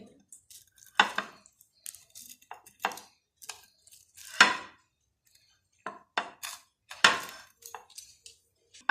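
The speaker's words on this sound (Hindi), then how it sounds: "ये हम पिज़्ज़ा की कटिंग कर लेंगे।" Knife slicing through a homemade bread pizza on a serving dish, producing a series of sharp crunchy cuts and scrapes with quiet pauses between strokes, close and fairly crisp with no talking.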